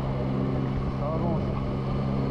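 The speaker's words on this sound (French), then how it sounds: "le son du moteur est symphonique" A Yamaha Tracer 9 GT motorcycle engine accelerates hard, a steady close drone rising slightly in pitch under wind rush.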